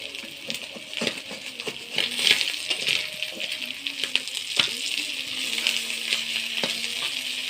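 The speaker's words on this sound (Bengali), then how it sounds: "গোটা জিরে ফোড়ন দিয়ে দেবো।" Whole cumin seeds spluttering in hot oil in a pan of browned onions for a fish curry, a steady crackling sizzle with sharp little pops scattered throughout, close and fairly loud, no talking.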